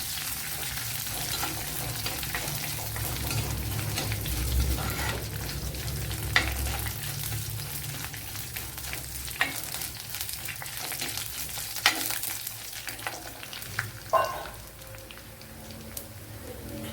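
Dried red chillies sizzle and crackle steadily in hot oil in a pan for kadala curry, a continuous close frying hiss with a few sharper pops and stirring scrapes.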